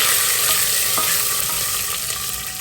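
Dried red chillies fry in a hot pan for a Tamil rice-and-lentil dish, giving a steady, fairly loud sizzle with faint stirring scrapes and a few soft crackles, no talking.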